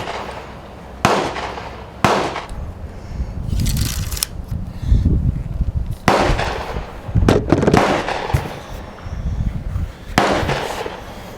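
A rifle, likely a Savage, fires Winchester M190 target loads outdoors: about six sharp, loud reports spaced a second or more apart, each followed by a short outdoor echo and low rumbling between shots.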